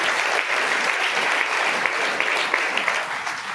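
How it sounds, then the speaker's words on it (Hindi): Sustained applause from a church congregation, dense and even from start to finish, with no break in the clapping. "तालियां प्रभु को धन्यवाद करें"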